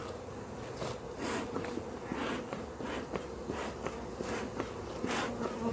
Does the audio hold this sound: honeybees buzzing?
yes